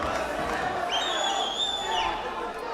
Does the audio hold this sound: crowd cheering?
yes